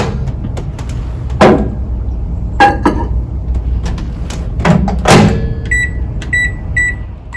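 A microwave oven cooking pasta in water for mac and cheese, with a steady low running hum broken by a few clunks and door-like knocks, then a series of short high beeps near the end.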